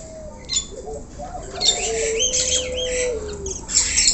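Asian pied starling calling with a run of harsh squawks, chirps and whistled notes, close and fairly loud over a hissy background.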